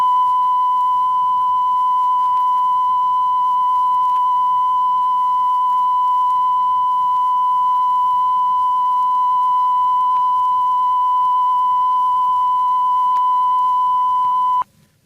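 A steady 1,000-cycle CONELRAD civil defense test tone rings as a single pure, loud, continuous beep for about fifteen seconds before cutting off abruptly.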